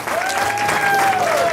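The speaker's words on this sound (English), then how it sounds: "A round of applause," Wedding guests applauding in a steady, dense wash of clapping, with a faint tonal whistle or voice gliding over the top.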